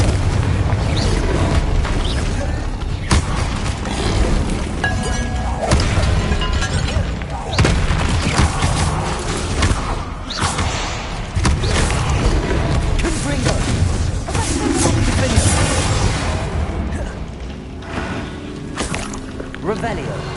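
Bombarda blasting spell explosions in the video game Hogwarts Legacy, a dense run of loud booming blasts and crackling bursts that goes on without a break, with game music and other effects mixed in.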